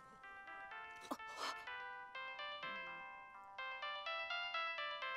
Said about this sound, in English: That is such a stupid ringtone.